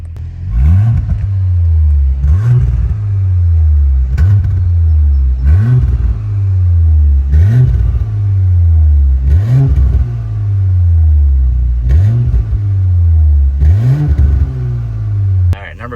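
A 2020 Audi SQ5 (B9) with a modified exhaust, set to dynamic mode, revs about seven times in a steady rhythm, each blip rising to a loud, close, rumbling roar before falling back to idle.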